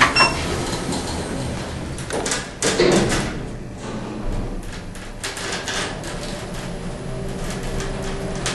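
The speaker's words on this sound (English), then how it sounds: "Doors closing." Otis Gen 2 lift doors sliding shut at a college building, heard as a soft rumbling slide with a brief thud near the middle, over steady background hum.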